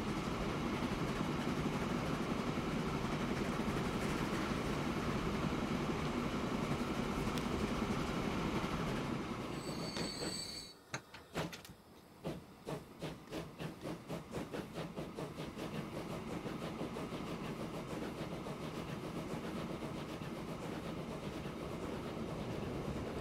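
Trains running in the rail simulation game Transport Fever 2, with a steady loud rolling rumble, then a sharp drop and a run of rhythmic clickety-clack beats as cars pass over joints before the steady rumble resumes.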